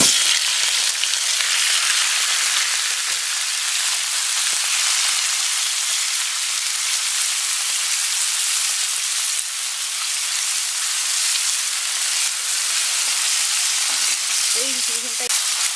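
Pork for pork humba sizzles loudly in a hot pan, a dense, constant crackling hiss close up that runs unbroken throughout, with a brief faint voice near the end.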